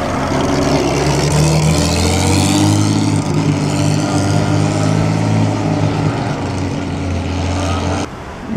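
A vintage MG sports car engine, fresh from the Mille Miglia and shown at the Concorso d'Eleganza by Lake Como, revs loudly up close with a rich, sustained, throaty drone that drops away abruptly near the end.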